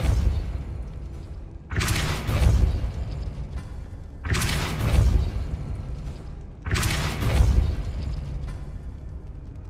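Three loud, booming blasts of the Depulso force spell in Hogwarts Legacy, evenly spaced roughly two and a half seconds apart, each with a sharp onset and a rumbling decay. No voices are heard.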